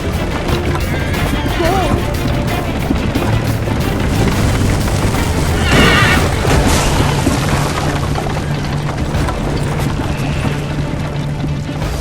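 A horse whinnies loudly amid crashing, booming impacts and clattering hooves in a chaotic action scene, with shouted voices and a dense wall of noise throughout.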